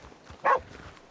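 A single short dog bark from a video game, moderately loud against a quiet background.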